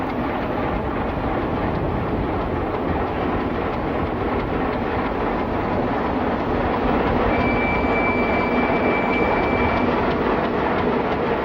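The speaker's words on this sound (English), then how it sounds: "The unit has 2 locomotive hulks in tow as it pulls them out of the line" An Alco S6 shop switcher locomotive hauls two dead locomotive hulks out of a line on Mexico's Pacifico Railroad, a steady loud rumble of engine and rolling stock with a faint thin wheel squeal partway through.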